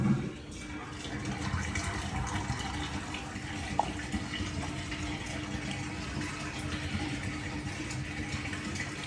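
Steady rushing and splashing of water flushing through a Fisher & Paykel CleanSmart washing machine at the end of the wash, a continuous even wash of sound at moderate level.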